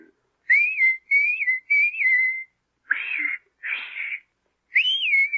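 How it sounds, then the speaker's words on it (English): In a radio drama of Pinocchio, a person whistles a series of short, clear, rising-and-falling phrases, each set apart by brief pauses, alone and close. "just whistle, like this"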